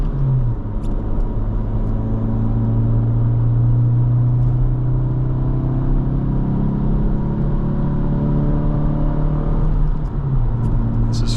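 Honda Civic accelerating at light quarter throttle while towing a trailer, a loud steady engine drone rising in pitch over road rumble, then dropping back as it shifts.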